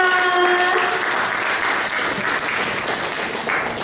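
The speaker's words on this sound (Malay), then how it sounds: "berikan tepukan untuk Aina" An audience at a forum bursts into loud sustained applause, a thick wash of clapping with a brief tonal ring at the start, holding steady throughout.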